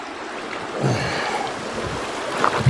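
River water rushes over rocks at a creek crossing on the Hunter Creek Trail in Nevada, a close, steady gurgling flow with a few brighter splashes near the end.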